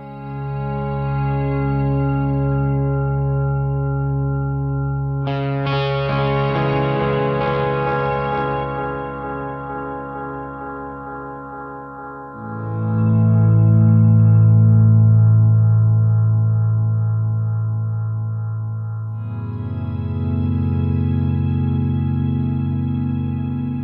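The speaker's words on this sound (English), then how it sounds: "The cool thing about the feedback in a tape echo mode is that it gets that harmonic distortion kind of thing going." A guitar signal runs through a Horizon Devices Flux Echo pedal in tape echo mode, its feedback building into a loud, sustained, harmonically distorted tone that shifts pitch in distinct sections with repeating echoes and no talking.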